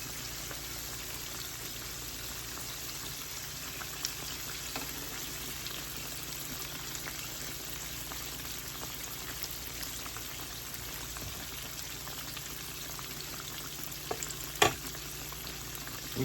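Pork chops fry in a pan with a constant crackling sizzle like light rain, steady and fairly quiet, broken by a few sharp clicks near the end.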